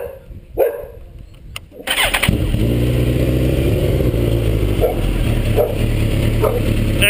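A Suzuki GSX-R 1000 motorcycle engine cranks and catches after a brief start-up, then settles into a loud, steady idle with a few light revs, close by.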